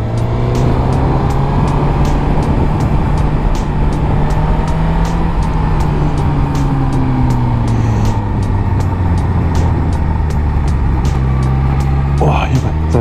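A Suzuki GSX-R motorcycle engine roars loud and steady while riding into a curve, its pitch drifting slowly up and down, with wind rush and a brief voice near the end.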